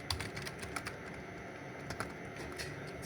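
Fast keystrokes on a computer keyboard while entering a telnet command, a steady run of close, faint clicks with no talking.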